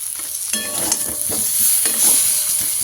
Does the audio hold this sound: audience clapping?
no